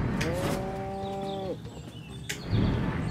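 A loud, sustained cow moo from the Destroy All Humans! video game rings out for over a second, followed by quieter game sounds and a sharp click.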